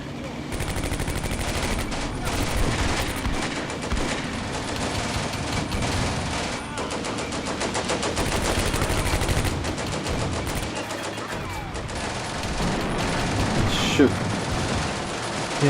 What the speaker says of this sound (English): the tanks are hitting there from the upper ground